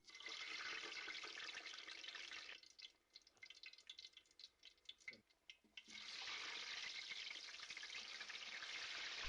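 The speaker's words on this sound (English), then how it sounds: "Then put one cassava chip after another into the hot oil so they do not" Cassava chips fry in hot oil with a loud, dense sizzling hiss that drops away briefly to scattered pops and drips as pieces go in, then swells back to full sizzle.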